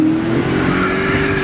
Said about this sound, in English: there's our little bit of wheel spin